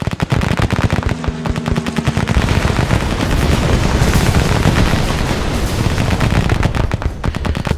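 Ship cannons in the naval video game Battle Fleet 2 fire in a loud, relentless barrage of rapid, evenly spaced reports, merging into a dense roar in the middle before separating again.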